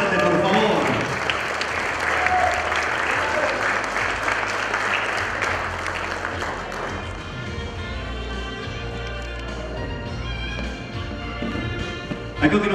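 Loud, dense applause from guests at a quinceañera celebration fills the room, holding steady for several seconds before thinning out as music rises beneath the clapping.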